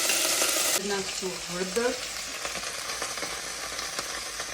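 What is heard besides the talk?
peas and potatoes frying in a pan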